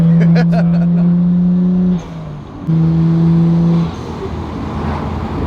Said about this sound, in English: That blow-off valve is super loud.